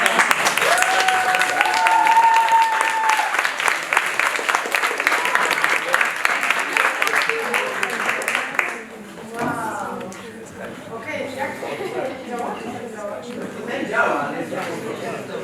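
Audience applause after a card trick at an illusion show, dense loud clapping for about nine seconds that cuts off abruptly, followed by people talking.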